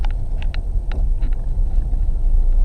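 Honda CR-V 2.0 i-VTEC SE 4WD manual on the road, with a steady low rumble of engine and road noise filling the cabin and a few light clicks and ticks on top.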